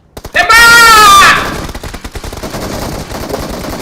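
Loud burst of rapid automatic gunfire in PUBG Mobile, a dense sustained volley for about a second, then fading into scattered softer shots and game noise.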